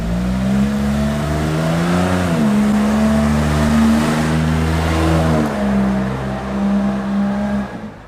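Suzuki Jimny 3BA-JB64W fitted with a Ganador GDE-158 series aftermarket muffler, driven at low speed, giving a loud close exhaust drone that rises and dips in pitch with light throttle changes, with no talk.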